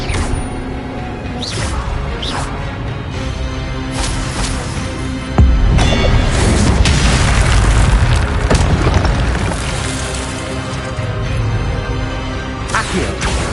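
Spell blasts and explosions from the video game Hogwarts Legacy go off in a dense, loud sequence of booms and bursts, with a heavier impact about midway and continuous crashing and mechanical clatter throughout.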